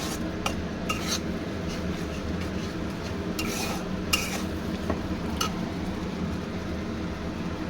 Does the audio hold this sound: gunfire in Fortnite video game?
no